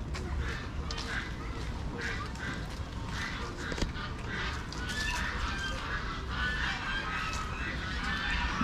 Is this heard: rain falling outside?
no